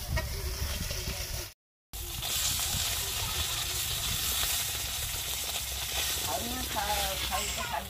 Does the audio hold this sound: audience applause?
no